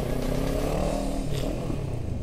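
A motorcycle rides through the traffic of Tbilisi city streets. Its engine drones steady and close for the whole stretch, with a low rumble and a faint rattle under passing road noise.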